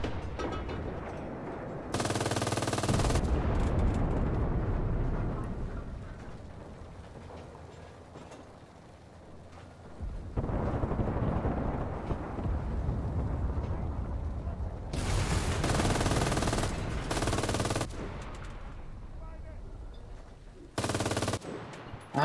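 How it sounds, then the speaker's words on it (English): Rapid automatic gunfire in a video game tank battle, coming as loud sustained bursts separated by quieter stretches of rumbling battle noise, with four distinct volleys. "Shoot the crew outside the tank."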